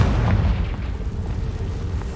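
A Confringo spell explosion in the video game Hogwarts Legacy: one heavy, booming blast with a deep rumble that carries on for about two seconds.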